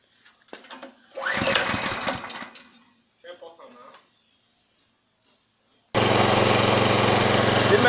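A mobile welding machine's engine starts running at low RPM, a loud steady rumbling drone that enters abruptly near the end after a stretch of speech and quiet clatter.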